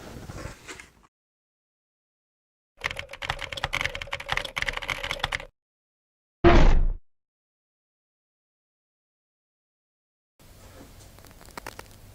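Clattery bursts of typing come from a ProHT mechanical keyboard with blue switches. Dense key clicks alternate with silent gaps, and a single loud thump stands out partway through.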